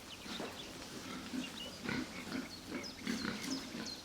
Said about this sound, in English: Our attention was attracted by the characteristic sounds of many wild boar